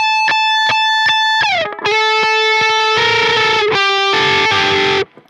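An electric guitar plays a riff in standard tuning, loud and distorted, starting with sharp, clipped harmonic pings, then sliding into sustained, dissonant chugging chords before stopping abruptly.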